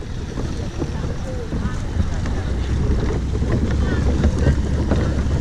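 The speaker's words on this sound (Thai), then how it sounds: "มาดูการเข้าเทียบท่าของเรือหางยาวที่เกาะราชา" A three-cylinder turbo longtail boat engine drones steadily under wind and splashing water as the boat docks at a pier on Koh Racha, with faint voices in the background as it moves in close.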